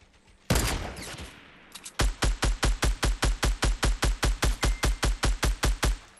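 Gunfire in the Fortnite battle royale, a sudden loud burst and then a rapid, evenly spaced string of about twenty sharp shots, crisp and close, with no talking.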